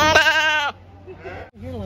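A single loud, quavering goat bleat up close at a county fair, followed by softer bleats and murmuring voices.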